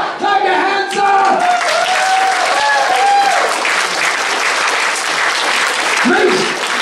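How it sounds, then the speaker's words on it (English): Audience clapping fills a live comedy game-show stage event, loud dense applause throughout, with shouts and voices rising over it early and near the end. "Clap your hands up!"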